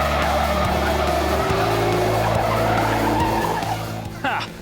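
A big red Dodge Challenger SRT8 race car, twin-turbo Gen III Hemi, pushed hard on the track with tires squealing loudly over a heavy engine drone, sustained for several seconds before easing near the end.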